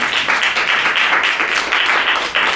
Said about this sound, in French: Est-ce qu'on arrête là et on applaudit, mais très chaleureusement, Grazia Carloni?